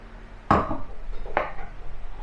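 Vinegar stirred in a pot over medium heat while making a homemade ketchup: two distinct clinks of a utensil against the pot, about a second apart, over faint background noise.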